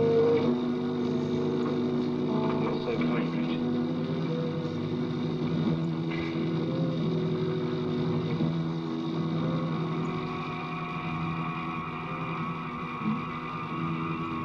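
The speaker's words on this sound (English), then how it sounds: "kill the tractor in now, Neil." Tractor engine sound effect played back in the EMI studio at Abbey Road, a steady low droning rumble with layered mechanical hum running continuously and fairly loud throughout, with no voices.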